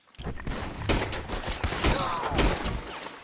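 Dense gunfire in Red Dead Redemption 2, a volley of overlapping shots and cracks fired in quick, irregular bursts, loud and close for the whole stretch, with a faint voice briefly underneath.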